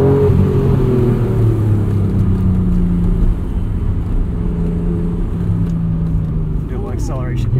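Engine of a 1992 Acura NSX accelerating on a canyon road, heard from inside the cabin: a loud, steady engine drone and road rumble that rises in pitch toward the end.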